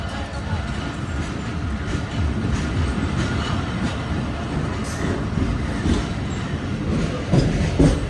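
The Awam Express, hauled by locomotive HGME30, rolls along with a continuous loud rumble and rattling clatter of wheels and coach, steady throughout with scattered small clanks from inside a refurbished coach.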